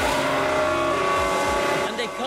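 A Ferrari Formula 1 car drives through a pit stop in F1 Manager 2023 at Bahrain, its engine whining and shifting pitch steadily while a voice talks over it.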